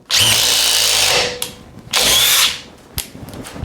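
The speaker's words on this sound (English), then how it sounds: "Drilling a hole right next to the other one." DeWalt impact driver, a DCF860 or DCF850, drilling a hole in wood: two loud, high whirring bursts of about a second each with a short pause between, then a sharp click and faint rattling afterward.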